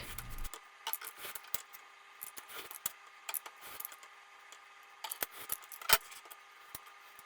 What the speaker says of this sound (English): I cut out the bricks with my craft knife